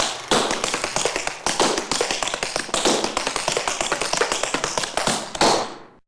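Tap shoes strike a hard floor in rapid, dense rhythmic bursts, close and crisp, with brief pauses between phrases and no talking.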